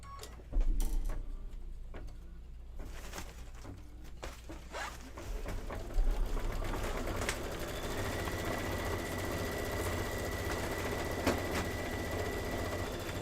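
A home embroidery machine stitches out an apple design, a steady mechanical whir with rapid ticking needle strokes and occasional louder clicks, close and continuous throughout.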